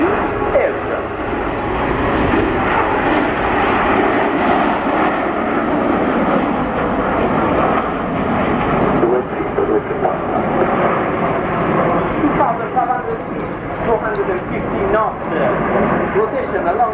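Jet formation of nine aircraft performing a roll at the RIAT Air Tattoo air show, a loud continuous roar of engines sustained throughout, with a commentator talking over it.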